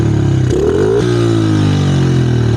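A dirt bike engine idling roughly as it burns heavy oil, a steady close-up drone with pitch wavering and briefly rising mid-clip, stumbling without settling.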